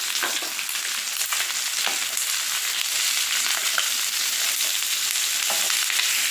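Onion added to chicken gizzards frying in a pan gives a loud, dense, continuous sizzle with crackling and faint stirring scrapes throughout, heard up close without speech.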